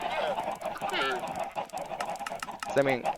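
Minecraft chickens give a few throaty, honking clucks, one near the start and another louder one near the end, set against a steady background drone with possible faint voice underneath.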